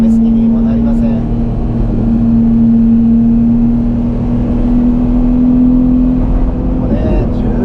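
Ferrari 296 GTS driving open-top on Tokyo streets and the Shuto Expressway, its engine holding a steady loud drone with a rising hum throughout, road and wind noise around it.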